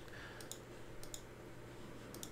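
Computer mouse clicking while editing a wedding portrait in photo software, faint paired clicks repeating about three times over a quiet background hum.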